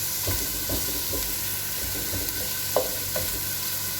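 Vegetable rice stir-fries for lunch, with a steady loud sizzle and the repeated scrape and clack of a utensil stirring through the pan, close and without talk.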